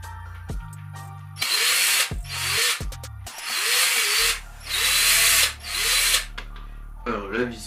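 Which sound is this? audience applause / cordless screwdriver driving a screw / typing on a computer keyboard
cordless screwdriver driving a screw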